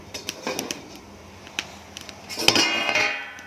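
A pot lid is handled while lau chingri, a Bengali dish of bottle gourd and prawns, cooks. Several sharp metallic clinks and knocks of cookware come at uneven intervals, ending in a louder clatter and ringing, with no talk.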